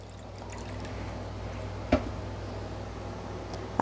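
A cup of water pours steadily for a marinated cucumber dressing, a soft continuous trickle over a low hum with one brief clunk partway through.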